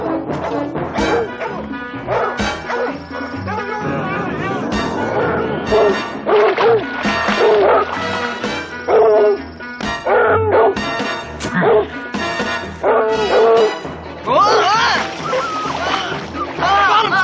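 Dogs on leashes at quicksand barking, yipping, whimpering and howling in repeated loud bursts, close by, with people shouting over them.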